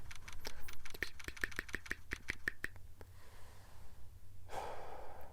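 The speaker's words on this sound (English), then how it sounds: "My breathing does feel heavy and labored." Heavy, labored breathing in the Phoenix Wright: Ace Attorney courtroom game, a run of quick sharp gasping pulses in the first half, then quieter breaths and one louder exhale near the end, with no talk over it.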